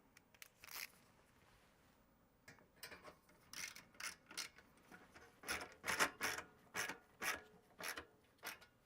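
Screws being tightened into a Macintosh SE case, a series of faint, close ratcheting and scraping bursts that grow more frequent and rhythmic toward the end, with no talk.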